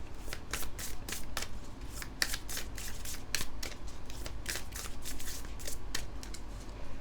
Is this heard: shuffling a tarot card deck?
yes